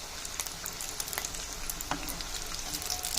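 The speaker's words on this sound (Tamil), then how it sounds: "இப்போ ஒரு பக்கம் வெந்துருச்சு, நம்ம இன்னொரு பக்கம் திருப்பி விட்டுடலாம்." Flour-coated Cajun potatoes frying in oil in a pan, giving a steady close hiss and sizzle with scattered crackling pops throughout.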